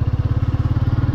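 A motorcycle engine runs steadily at idle on a group ride, giving a loud, close, rapid and even chugging pulse throughout.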